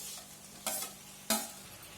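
Chopped tomatoes and slit green chillies stir-fried in a pan, with two distinct scraping stirs against a soft, steady sizzle.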